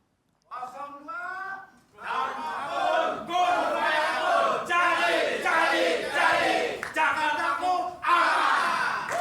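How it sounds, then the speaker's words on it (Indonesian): A crowd of supporters at a Jakarta gubernatorial debate chants and shouts a rhythmic cheer for the number 2 vice-governor candidate, loud and sustained in repeated bursts after a brief solo call at the start. "Saya ingin mendengar yel-yelnya dulu untuk, dalam tanda kutip ya, pasukan pendukung calon wakil gubernur nomor urut 2, Bung Kun Wardana."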